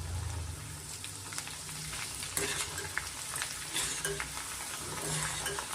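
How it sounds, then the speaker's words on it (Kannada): Flattened rice (avalakki) frying in hot oil inside a mesh net strainer, a steady close crackling sizzle with occasional stirring scrapes, no voices. "ಈ ಥರ ನೆಟ್ ಮೇಲೆ ಇಟ್ಕೊಂಡು ಸ್ವಲ್ಪ ನೀವು ಫ್ರೈ ಮಾಡ್ಕೊಬೋದು"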